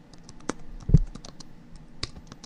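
Typing on a computer keyboard: a quick irregular run of light key clicks with one heavier thump near the middle, close and fairly quiet, no talking.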